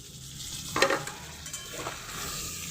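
Mutton pieces with salt fry in a cooked spice paste for a home-style curry, giving a steady sizzle broken by one sharp scraping stir and a softer second one.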